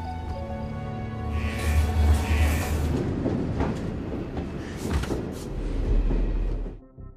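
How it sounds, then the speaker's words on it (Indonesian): A freight train arrives in a film scene, with a continuous loud rumble and rolling clatter that swells and holds steady before cutting off abruptly near the end. "Tidak lama kemudian, sebuah kereta api datang."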